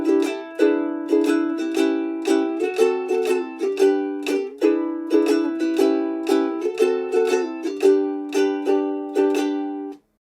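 Ukulele slowly picking the longer motif of a song, clear plucked notes and small chords in an even, unhurried rhythm, close and alone before stopping cleanly.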